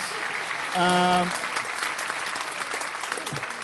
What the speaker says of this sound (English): We'll give you a little round of applause.